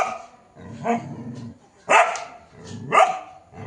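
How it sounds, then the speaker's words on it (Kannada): A dog barks three times nearby, sharp separate yaps spaced about a second apart, with a low rumbling growl at the start. "ಇಷ್ಟು ಹತ್ತಿರದಿನೆಲ್ಲ ನಾಯಿ ಬೊಗಳ್ದ ನೋಡ್ಲಿಲ್ಲ"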